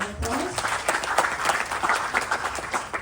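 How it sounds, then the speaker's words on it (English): An audience at a Ganesh Chaturthi festival gathering applauds, with steady, dense clapping sustained throughout at close range. "Please give him another round of applause."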